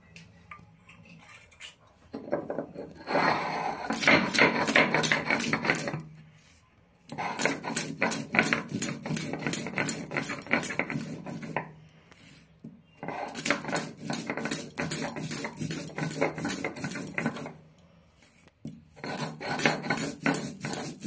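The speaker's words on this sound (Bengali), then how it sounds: "এই পাতা বাটা শিলের মধ্যেই কালো জিরে, পরিমাণ মতন কাঁচা লঙ্কা আর রসুন একসঙ্গে বেটে নেব।" Black cumin, green chili and garlic ground on a flat stone slab with a grinding stone, loud rhythmic rasping strokes in long bursts separated by short pauses, no talking.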